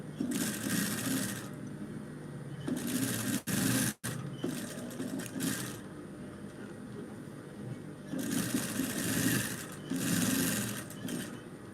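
Domestic sewing machine running in steady motor-driven bursts of stitching, with short pauses between runs and one sharp break near the middle; close and fairly loud, no talking.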